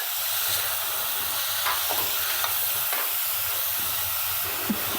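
Grated bottle gourd sautéing in a kadhai, a steady, loud hiss and sizzle running throughout, with occasional faint stirring scrapes and no talk.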